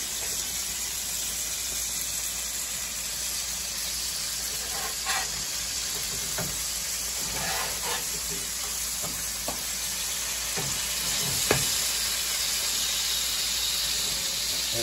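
A bison patty fries in a pan with a constant loud sizzle and hiss, scattered pops and splatters crackling through the steady wash of frying.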